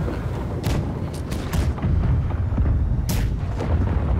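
Ship cannons boom in a ragged volley during a Blackwake naval battle, several loud sharp blasts in quick succession over constant rumbling chaos, no talking.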